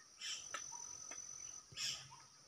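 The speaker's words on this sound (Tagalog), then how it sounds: "Maraming mga ibon na maririnig natin yung mga huni ng mga ibon dito" Birds chirp in short bursts against a steady high insect-like buzz, with a few faint calls scattered between them. No one speaks.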